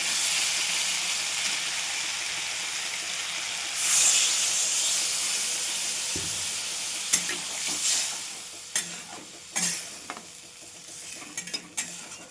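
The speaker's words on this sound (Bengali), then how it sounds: "এবার একটু নাড়াচাড়া করে সামান্য জল দিয়ে দেবো।" Mustard paste curry sizzles and hisses in a pan, then water is added, bringing a burst of steam and sizzle. Scattered scrapes and knocks of a stirring spoon follow, close and clear, with no talking.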